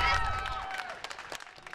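Scattered claps ring out from a crowd at an anti-mask demonstration during a Utah County Commission meeting. They follow a voice at the start, and the sparse, fairly distant bursts rise in the second half.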